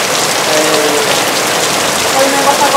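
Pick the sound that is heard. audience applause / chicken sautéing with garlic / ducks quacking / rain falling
rain falling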